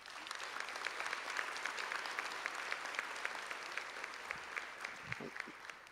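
Graduates at a Young Women's Leadership Academy class of 2018 ceremony receive a round of applause, a dense, steady roar of many hands clapping across a large hall, with a few faint voices and thumps near the end.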